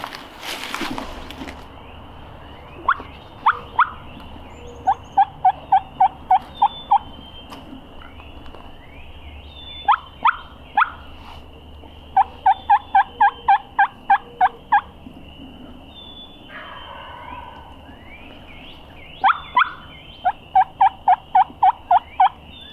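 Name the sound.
wild turkey gobbling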